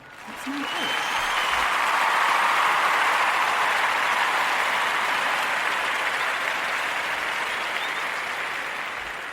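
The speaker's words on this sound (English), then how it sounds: "Let's give them a round of applause for just thinking about somebody." A crowd breaks into sustained applause, loud and dense, swelling quickly and holding for several seconds before slowly tapering.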